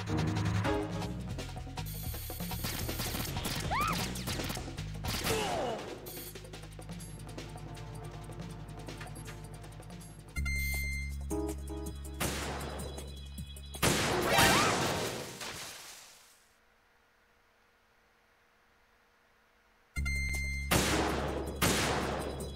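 Sniper rifle shots from a PSG-1 in Metal Gear Solid 2, several sharp loud cracks with whooshing tails over game music and ambience, then a brief near-silent gap before the sound returns.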